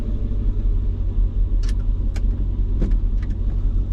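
A Mercedes C55 with the M113 engine hangs at a high idle, a loud, steady low rumble that stays even throughout, with a few faint clicks and taps over it and no voices.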